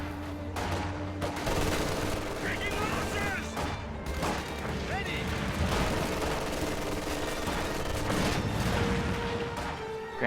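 Gunfire and Katyusha rocket artillery sound in a war video game battle: dense crackling bursts and booming impacts, with brief whistling streaks of incoming fire, all continuing at a moderate level.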